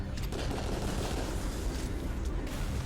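Rapid continuous gunfire from a recoiling weapon in the VR shooter Raw Data, a dense, loud, steady barrage filling the whole short stretch without pause.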